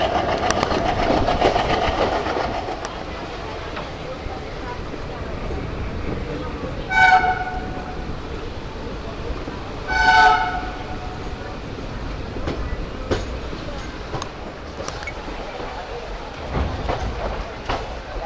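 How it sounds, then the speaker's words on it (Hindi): Haridwar–Shri Ganganagar Intercity Express pulling into Ambala Cantt Junction, with a steady low rail rumble and two loud, clear horn blasts a few seconds apart, along with background voices on the platform. "Train is arriving on Ambala Kent Junction."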